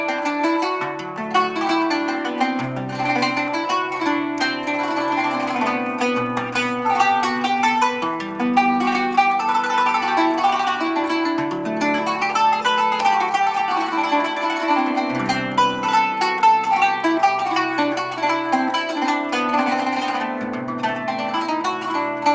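A traditional Arabic string instrument, plucked with metal finger rings, plays a short improvisation in one key, with rapid arpeggiated and strummed notes ringing continuously and clearly, with no talking.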